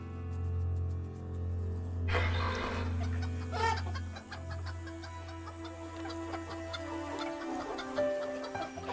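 Chickens cluck and squawk nearby over a low steady hum, followed by faint ticking.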